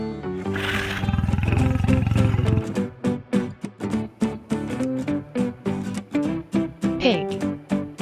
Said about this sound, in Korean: lion, 사자,